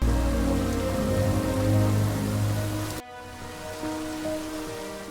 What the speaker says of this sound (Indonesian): hujan turun mengusirnya